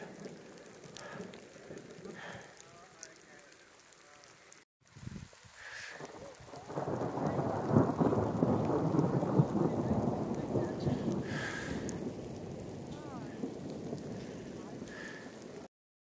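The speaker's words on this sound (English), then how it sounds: "And wow, you hear that those polystyrene balls of hail." Hail falls on a snowline hike in a thunderstorm, a dense, steady patter that swells in after a quieter stretch of rain and a gust, staying loud and close until the end.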